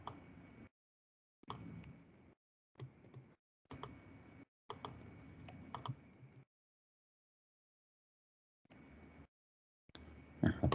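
Typing on a computer keyboard during a lecture, heard as short bursts of clicky keystrokes separated by silent gaps, close and fairly quiet, with a louder flurry at the end.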